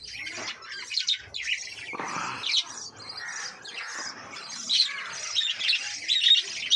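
Pet birds in an indoor bird room squawk and chirp almost without pause, a busy, close chorus of harsh calls and bright tweets with no speech.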